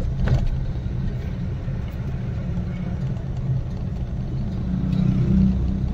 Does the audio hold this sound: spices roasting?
no